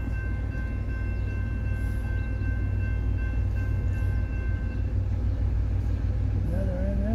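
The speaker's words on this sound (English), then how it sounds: "Another NS train. Yep. Another piggyback." A Norfolk Southern intermodal freight train carrying piggyback trailers passes northbound on the track with a steady low rumble of rolling cars. A faint horn is audible and people talk quietly nearby.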